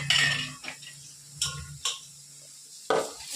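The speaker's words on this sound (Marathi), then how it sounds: "आता पोहे सोडते मी." Flattened rice poha being added to a frying pan, a few short clattery scrapes and taps of a utensil against the pan, close and isolated with quiet gaps between.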